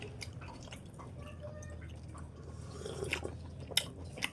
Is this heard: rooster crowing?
no